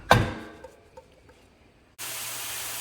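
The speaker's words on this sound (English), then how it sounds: "Now we really got those mushrooms sizzling." Mushrooms hit hot oil left over from cooking chicken in a pan, giving a sharp sputter, then, after a quiet stretch, a loud, steady, close sizzling hiss takes over.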